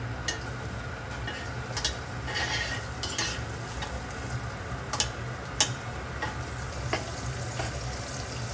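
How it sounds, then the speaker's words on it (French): Guanciale is reheated in a pan for carbonara, giving a steady moderate sizzle with scattered clicks and scrapes of a utensil against the pan. No voices are heard. "Je vais maintenant redonner de la chaleur à le guanciale."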